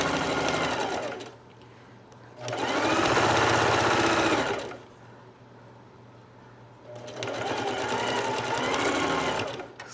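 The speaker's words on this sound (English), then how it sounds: "So there, I got that top stitched." Sewing machine top stitching a zipper on a tote bag, running in two loud, sustained bursts of rapid mechanical stitching separated by quieter pauses.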